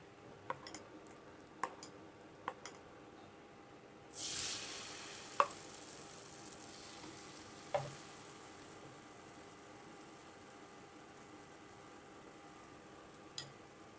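Semolina and potato snack frying in oil gives a quiet, steady sizzle, with a few sharp clicks and taps and one brief louder hiss partway through.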